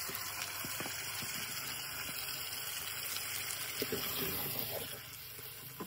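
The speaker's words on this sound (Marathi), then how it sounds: "सार आता मी फोडणीत देते." Liquid for a Konkani-style fish curry poured into a hot tempering in a village kitchen, a continuous gushing, bubbling wash of sound that holds steady and eases off slightly at the end.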